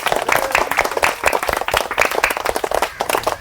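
An audience applauds a contestant who counted to eight in a lively stage game, with dense, steady clapping that stays loud for the whole stretch and no talk over it.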